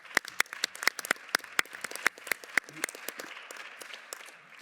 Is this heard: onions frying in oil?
no